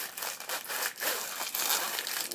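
No-name wax paper rubbed back and forth along a sticky zipper, giving a close, steady crinkling and scraping rustle with brief dips between strokes.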